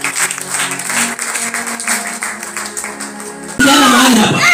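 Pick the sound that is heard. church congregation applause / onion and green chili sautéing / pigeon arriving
church congregation applause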